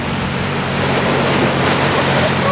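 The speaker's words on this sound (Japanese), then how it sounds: "ここは材木座海岸です。" Surf washes steadily onto Zaimokuza beach in Kamakura on a quiet late-summer evening near sunset, a continuous broadband roar of breaking waves with some wind, loud and close, with no voices.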